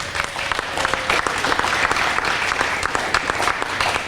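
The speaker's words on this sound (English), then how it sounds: "Would you please join me one more time in giving a big round of applause to Parole Officer Rob Arman." An audience gives a big round of applause for a parole officer at a law-enforcement salute event, with many hands clapping densely and crisp individual claps standing out, sustained evenly throughout.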